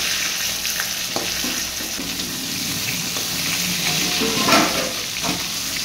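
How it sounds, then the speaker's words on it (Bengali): Silver carp pieces fry in hot oil and are flipped over, giving a steady close sizzle with a few soft scraping and turning sounds. "মাছের অপর দিকটা ভাজার জন্য আমি মাছটা উল্টে দিচ্ছি"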